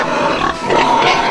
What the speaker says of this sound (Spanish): Hembras recién paridas se dirigen a dar de mamar a sus lechones.